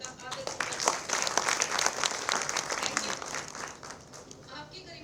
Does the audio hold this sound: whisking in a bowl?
no